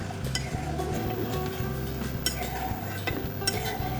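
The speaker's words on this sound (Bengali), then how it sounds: "এখন আমি এই মশলাটা ভালো করে একটু কষিয়ে নেব যতক্ষণ না তেল ছেড়ে আসবে।" Ground spice paste with bay leaves sautéing in oil in a pan, soft sizzling under repeated scraping and clinking of a spoon against the pan, fairly quiet and close.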